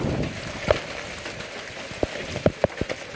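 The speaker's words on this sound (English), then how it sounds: "Large destructive hail." Hail from a microburst storm in Clear Spring, Maryland, with large destructive stones striking in scattered hard knocks over a steady wash of rain, a few sharp close hits standing out.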